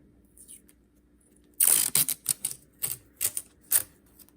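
Tape pulled and wrapped around a plastic egg shaker, heard as a series of sharp, close crackling rips, about eight quick bursts in an uneven rhythm after a quiet start.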